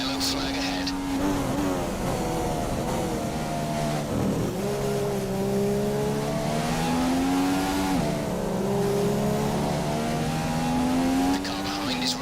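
Formula 1 car engine revving in the F1 2015 racing game, a steady high engine drone rising and falling in pitch with gear changes over the full length, with race-engineer speech partly over it.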